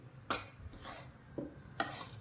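Ragi flour dry-roasting in a pan for ragi laddu, with several distinct scraping, clinking strokes of a spoon against the pan at irregular intervals, close and fairly quiet, no talk.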